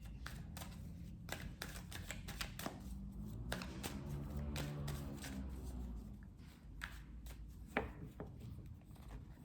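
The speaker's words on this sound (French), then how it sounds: "je bats les cartes" Tarot cards shuffled by hand, heard as a quiet, close run of rapid riffling and soft slapping taps that continues unevenly throughout.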